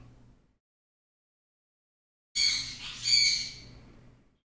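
A pet bird gives one loud, harsh two-part squawk close by after a brief silence, with a faint trace of another call at the very start.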